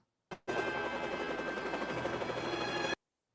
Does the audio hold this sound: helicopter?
yes